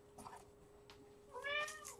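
A domestic cat gives a short, faint meow, and a clearer, rising meow follows toward the end in a quiet indoor room.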